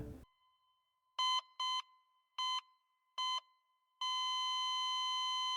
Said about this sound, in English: The game ends with the sound of our father's heart monitor flatlining.